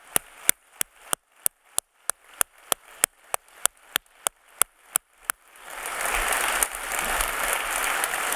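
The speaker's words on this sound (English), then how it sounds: "We have to give them applause." An audience at a summit closing ceremony claps in a slow, evenly spaced unison beat that breaks into loud, sustained applause from the whole crowd.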